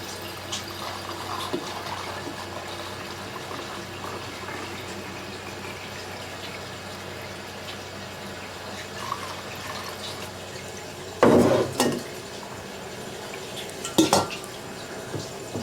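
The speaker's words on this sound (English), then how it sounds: "I'm gonna put her in my mason jars." Corn moonshine at 110 proof is poured into mason jars, a soft running trickle over quiet room noise, then two louder clinks and splashes of glass near the end, no talking.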